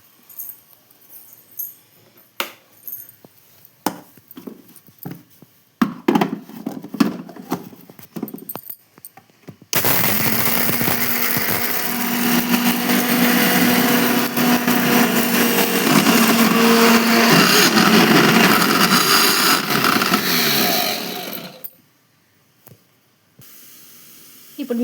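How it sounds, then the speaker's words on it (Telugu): A mixer grinder blends leafy greens chutney with salt, a loud steady whine with a low motor hum running for about twelve seconds, preceded by scattered clattering and followed by sudden silence. "ఉప్పు వేసుకొని మిక్సీ పట్టుకున్నాము."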